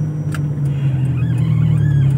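A 1993 Honda Civic ESi LX engine idles with a steady low rumble close by, humming continuously without revving.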